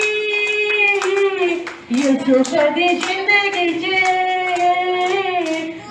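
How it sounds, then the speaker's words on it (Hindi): A congregation claps in steady rhythm along with a Punjabi-language hymn, the claps sounding as loud, regular beats beneath a sung melody. "सब जन तालियों के साथ ताली बजाएंगे सब जन"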